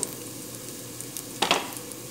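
A little garlic sizzles steadily in a hot pan while being cooked for chicken maqluba, a continuous bright frying hiss with a couple of sharper crackles and stirring scrapes partway through.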